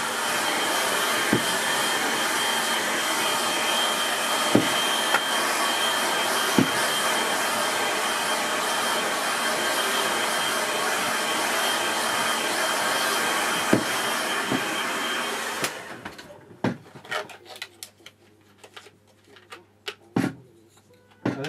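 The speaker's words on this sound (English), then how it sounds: "so I'm going to give that a quick dry." A hair dryer blows steadily on a watercolour painting for about fifteen seconds, a loud broadband whoosh, then cuts off abruptly, leaving scattered quiet clicks and handling noises.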